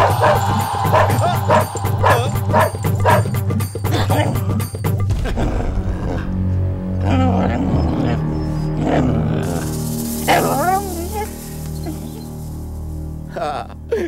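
A dog barks in a Telugu comedy film scene, its barks mixed with loud background music and people talking.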